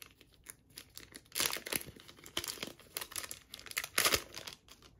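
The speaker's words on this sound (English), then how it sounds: "going into the last pack that we have" A Battle Spirits Saga Dawn of History Core Set booster pack's plastic wrapper is crinkled and torn open up close, in irregular crackling bursts with two louder tearing peaks.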